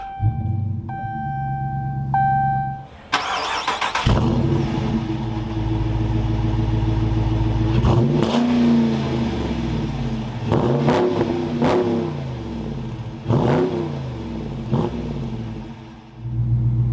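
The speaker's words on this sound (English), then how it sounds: "keeping my foot on the brake, we can go ahead and fire it up" Dodge Challenger R/T: a few interior warning chimes, then the engine cranks and catches with a loud roar, settles into a deep rumbling idle, and is revved sharply several times.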